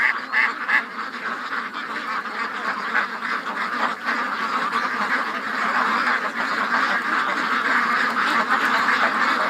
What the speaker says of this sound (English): The ducks are making a lot of noise inside the pen this morning